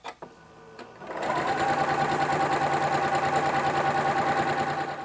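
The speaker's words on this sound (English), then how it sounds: "and then we'll just start stitching" Domestic sewing machine stitching strips of quilt fabric together; after a couple of soft clicks it starts up into a steady, loud, fast mechanical whirr with rapid needle chatter, running continuously and close by.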